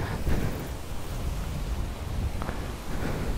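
Outdoor wind on Gran Canaria in the Canary Islands, a steady low rumbling buffet against the microphone with gusty swells throughout and no talk.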